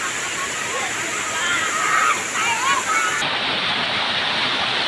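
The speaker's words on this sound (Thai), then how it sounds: "เป็นน้ำตกไหลมาทอดๆ" A shallow waterfall at Tham Soda temple pours steadily over tiered rocks, a broad constant rushing wash heard up close while someone talks over it.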